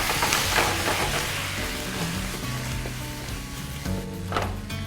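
Cooked mutton added to a hot pan, frying with a close, steady sizzle and a few sharper spatters, soft clinks of stirring underneath, no talking.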